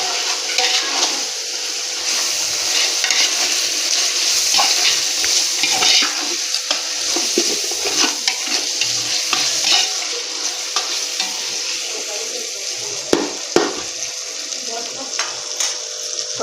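A spoon stirs chicken biryani masala with kasuri methi in a pan, giving steady close scraping and sizzling with occasional clinks against the metal.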